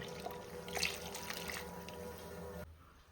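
Water pours steadily into a pot of fish-head curry with a soft rushing splash, continuing for a few seconds before cutting off abruptly near the end.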